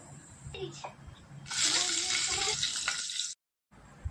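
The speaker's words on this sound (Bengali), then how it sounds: "ফোড়নের জন্য আমি দিয়ে দিলাম গোটা জিরে, তেজপাতা আর 4টে কাঁচা লঙ্কা" Whole cumin, bay leaves and four green chillies hit hot oil in the pan for tempering, after fried aubergine, for a tengra fish curry. A loud, steady sizzle lasts a couple of seconds, then cuts off abruptly.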